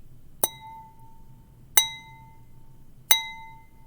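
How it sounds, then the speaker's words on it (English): A wine glass struck three times at steady intervals, each a bright ping ringing out at the same pitch over faint background hiss. "you could call it a wine glass, and when you strike it"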